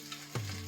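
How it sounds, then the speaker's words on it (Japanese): Vegetables drop into a hot, lightly oiled pot and burst into a sudden close sizzle after a brief quiet moment, with a soft clink just before. "鍋が温まったら野菜入れていきます"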